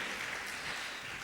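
A church congregation claps their hands together in a dense, steady wash of applause that stays loud and even throughout, with no voices rising above it.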